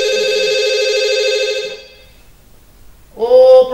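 A telephone rings on stage during a theater studio comedy sketch, a loud electronic tone sounding for about two seconds, then a pause before a second ring begins.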